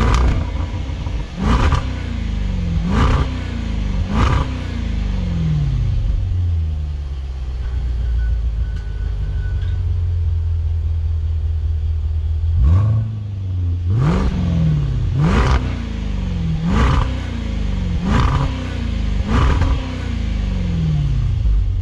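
A 2020 Range Rover Velar SVAutobiography V8 exhaust, recorded up close, barks through a series of sharp throttle blips separated by a rumbling idle, then a second run of rapid, loud revs that rise and fall quickly.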